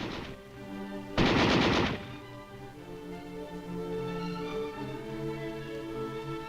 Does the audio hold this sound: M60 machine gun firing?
yes